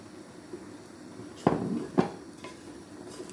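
Vegetable stalks dropped into a cooking pot with shrimp and dried fish in a Sylheti home kitchen, giving two sharp metallic clanks about half a second apart over a quiet background, each followed by a brief sizzle.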